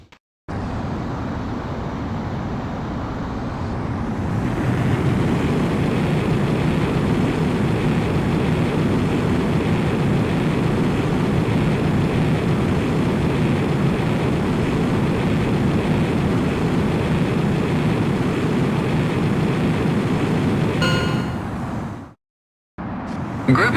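A fighter jet takes off in Ace Combat X: after a brief quieter start, a loud, steady engine roar swells and holds for nearly twenty seconds, then cuts off abruptly.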